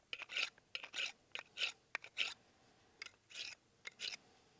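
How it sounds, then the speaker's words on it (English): A knife edge is sharpened against a rock in an outdoor survival setting, making rhythmic rasping scrapes in short strokes, about a dozen in quick irregular bursts, close and fairly crisp against a quiet background. "You can at least keep somewhat of an edge on them with rocks."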